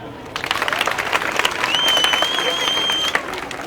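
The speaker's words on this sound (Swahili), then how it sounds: "Piga makofi." An audience gathered near a KKT church in Mwanza breaks into loud, close applause that swells and holds for several seconds, with a high whistle-like tone cutting through midway.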